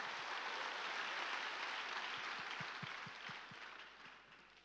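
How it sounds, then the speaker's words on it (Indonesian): A church congregation gives warm applause during a sermon gathering, a soft, distant roar of many hands that holds steady and then slowly fades toward the end, with a few faint low thumps underneath. "Boleh beri tepuk tangan buat Om Sugi dan Tante."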